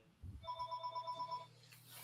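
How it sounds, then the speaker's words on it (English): A phone rings once in a short, evenly pulsing electronic trill, heard alone at fairly low level. "my phone is ringing"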